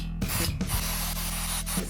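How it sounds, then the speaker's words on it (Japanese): Spray adhesive being applied to the back of a printed sheet of paper, a continuous broadband hiss with a few brief interruptions, close and steady throughout, no talk. "これの裏面ですね、こっちにスプレーのりをしていきます。"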